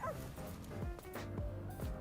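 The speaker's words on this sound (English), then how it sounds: "This dog is funny." A dog yips and whimpers in the video game Stellar Blade, with short woofs and whines over a dense bed of game music and ambience.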